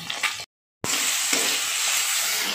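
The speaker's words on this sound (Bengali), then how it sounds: "মাছটা ভাজা হচ্ছে।" Rohu fish frying in oil in a kadai wok gives a steady, close hiss of sizzling that cuts out briefly near the start, then continues evenly with no voices.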